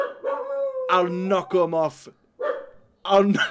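A dog barks and yips indoors in the room, several loud harmonic bursts close by, mixed with someone talking over them.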